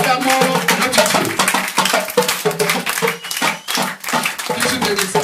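Church congregation clapping in rhythm to acclaim God, a dense, steady stream of hand claps from many people filling the room, with some voices mixed in.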